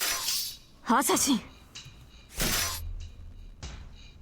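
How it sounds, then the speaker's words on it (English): Clashing swords with sharp metallic clangs and a shattering break in a Fate/Stay Night visual novel battle between Gilgamesh and Shiro, several loud bright bursts spread across the moment, mixed with a spoken Japanese line. "Sounds of swords clashing and breaking."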